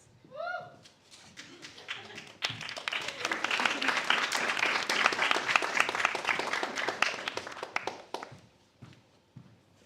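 An evening audience breaks into sustained applause that swells and holds for several seconds before tapering off, with a brief whoop or voice near the start.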